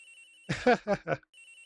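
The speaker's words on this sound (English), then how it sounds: "It's ringing. Agent Hicks' phone." A telephone rings in the Ace Attorney video game as a short electronic ringtone of four quick chirping bursts, close and clear, over a faint background tone.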